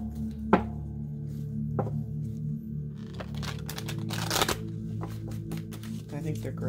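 Oversized Whispers of Ganesha oracle cards are shuffled in quick riffling bursts with a few soft thumps, while a person talks over the shuffling.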